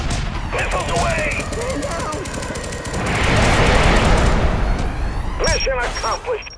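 Missiles launch and explode in the Kick the Buddy game as a loud, rumbling barrage with a rising roar of blasts, while game sound effects and a voice are heard around it.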